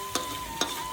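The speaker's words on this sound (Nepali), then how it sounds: "सबैको लागि चाहिँ मैले यसलाई भुट्छु" Goat intestines frying in a pan, a steady faint sizzle with a thin constant tone running through it, broken by two brief stirring scrapes about half a second apart.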